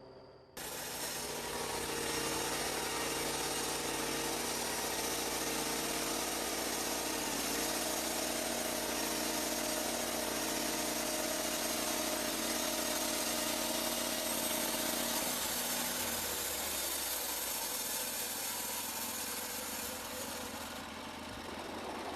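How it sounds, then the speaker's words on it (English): Lumber Pro manual sawmill running with its blade cutting through a log, a loud continuous high-pitched engine and saw whine that starts abruptly, holds steady throughout and eases slightly near the end. "Just lower the saw head, activate the operator's control, and guide the blade through the cut."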